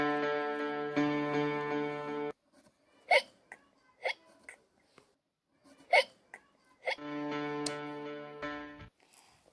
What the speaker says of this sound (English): Gavin's hiccups do not stop.